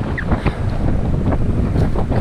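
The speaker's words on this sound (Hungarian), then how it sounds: "Fúj a szél, mint a fene." Strong wind sweeps across choppy water by a rocky island, roaring loudly and buffeting the microphone with continuous gusts while waves wash underneath.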